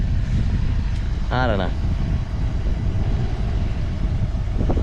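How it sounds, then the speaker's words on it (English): A lowered HSV VR Senator on SSL front and triple SL rear springs drives around the block, giving a steady, loud low rumble of engine and road noise from inside the cabin throughout, with a brief spoken phrase partway through. "So I'm just gonna drive around the block a little bit more"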